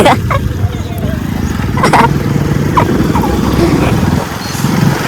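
A motorcycle rides along a road with a steady, close engine drone and a mild rise and fall in pitch, and brief higher rattles and whines over it.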